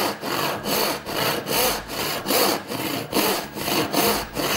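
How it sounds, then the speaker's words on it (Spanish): A hand saw cuts through wood with about a dozen rasping strokes in a steady back-and-forth rhythm, loud and close, with no talking. "Tener un buen inicio a la hora de hacer un corte con un serrucho es garantía de éxito"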